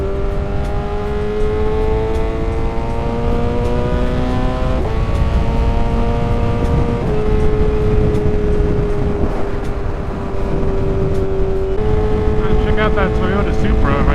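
A motorcycle engine humming steadily while riding, its tone shifting up through gears with a smooth, loud drone and wind rush close by.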